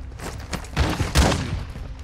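Gunfire in the video game Warzone 2.0 DMZ sounds as a few sharp, close bursts of shots within two seconds, loud and punchy against game ambience.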